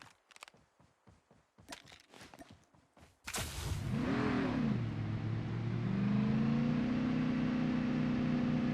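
Video game car engine starting up after a few quick clicks and thumps, then revving high and settling into a steady drone as the vehicle drives off.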